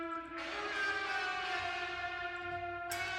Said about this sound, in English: an ambient guitar that's happening.